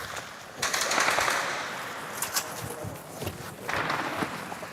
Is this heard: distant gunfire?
yes